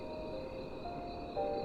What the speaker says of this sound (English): You hear the crickets?